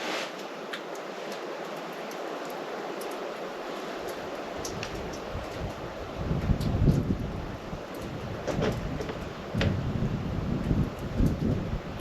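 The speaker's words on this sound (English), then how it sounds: "The wind is picking up." Wind picking up in the woods near a cabin, a steady broadband rush with rustling that swells stronger partway through, continuous and fairly close, with no voices.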